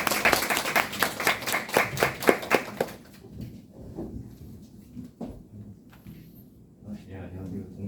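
Audience at a Korean lecture session giving a short burst of rhythmic, fairly close clapping that stops after about three seconds, followed by quieter room sounds and rustling.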